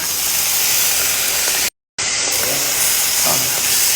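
Water poured into a hot pan while cooking oven-baked stuffed chicken with vegetables, giving a loud, steady steam hiss that runs broadband throughout, broken by one brief gap of silence, with faint kitchen clatter underneath.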